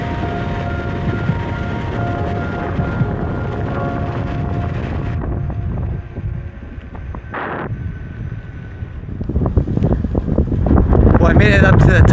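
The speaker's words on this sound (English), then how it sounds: "Very, very windy up here." Strong wind roars across a hilltop, buffeting the microphone with loud, continuous rumbling gusts that dip briefly and then swell even harder toward the end.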